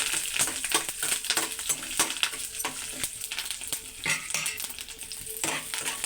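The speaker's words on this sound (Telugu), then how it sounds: "ఓ 2 నిమిషాల్లో తాలింపు సరుకులు అయితే వేపాలండి బాగానే" Tempering spices for coconut chutney sizzle and crackle in hot oil as a spoon repeatedly scrapes and stirs the pan, producing rhythmic clinks over a continuous close, bright frying hiss.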